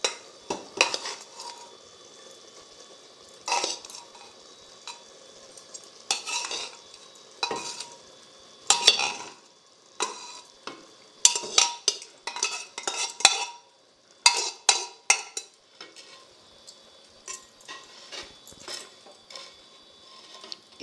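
Cooked rice is stirred into amaranth greens masala in a pan, with repeated scraping and clattering spoon strokes in irregular bursts between quiet pauses.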